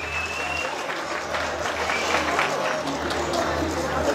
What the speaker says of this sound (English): big round of applause for Anita and Father.